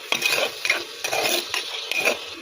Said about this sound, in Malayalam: ഇളക്കി കൊടുത്തുകൊണ്ടിരിക്കണം നമ്മൾ.